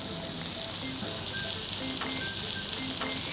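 Onions fry in hot oil for a chicken deopbap, giving a steady, close crackling sizzle with a few faint clinks over it.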